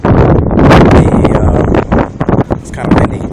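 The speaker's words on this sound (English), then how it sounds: "it's kind of windy today" Loud, blustery wind buffets the microphone in heavy rumbling gusts that ease and surge again.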